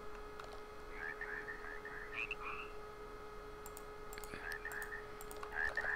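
Frogs croak in the Minecraft TerraFirmaCraft video game, giving several scattered short calls over a faint hum alongside a few light clicks, with no voices.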